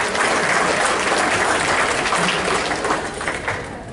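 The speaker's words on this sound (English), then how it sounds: "I would want you to give yourselves a big round of applause" Sustained, dense applause from an audience at a commencement awards dinner, filling the room and tapering slightly toward the end.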